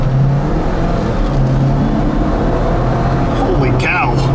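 A 2021 Jeep Wrangler Unlimited Willys with a small turbo four-cylinder engine accelerating, giving a steady, loud engine drone with road noise throughout and a brief voice near the end.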